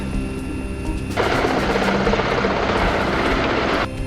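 An armed military attack helicopter roars loudly overhead with dense, steady rotor and engine noise filling the scene from near range.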